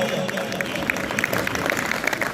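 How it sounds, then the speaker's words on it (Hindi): A crowd at the opening ceremony of a cricket league claps, a thick, continuous rush of hand claps with a few sharper ones standing out, steady and moderately loud throughout. "खुल के जरा तालियां बजाओ यार।"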